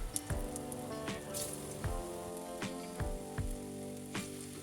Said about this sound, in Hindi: अब इसमें छोटी छोटी पकौड़ी बना लेंगे।